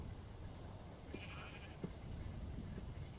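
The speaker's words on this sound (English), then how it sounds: "And over here is our sheep." Sheep, specifically horned rams, bleat faintly in Minecraft, one or two short calls heard at a distance over a steady low background.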